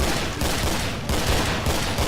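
Gunfire rattles in the zombie-survival shooter Killing Floor: loud, rapid automatic bursts pile into a dense, continuous barrage with brief dips between volleys.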